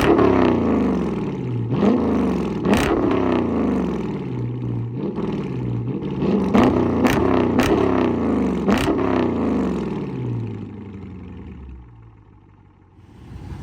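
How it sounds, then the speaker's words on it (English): Dodge Charger R/T engine revved repeatedly, loud and close, with sharp throttle blips rising and falling in a choppy rhythm before settling to a low idle rumble at the end. "I'm gonna give y'all a little rev too, just to end the video off."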